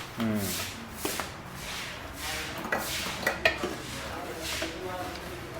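Kasuri methi being added to a bitter gourd curry in a pan, with soft clinks of a utensil against the pan and light stirring clatter, a few sharper taps standing out amid the kitchen noise.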